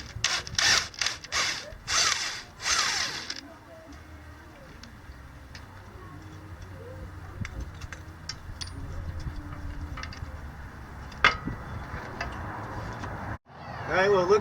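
A power tool working bolts loose on the steering assembly of a mini offroad mower build, with a burst of close, loud drill-like whirring at the start, then quieter ticking and clanking in the workshop.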